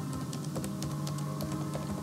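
Rapid clicking of keys on a computer keyboard runs as a steady stream of close, light taps over a faint hum, with no voices.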